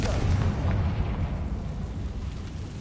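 Confringo fire spell explosion in Hogwarts Legacy, a single loud, deep blast that bursts at the start and rumbles away into a fading roar over a few seconds.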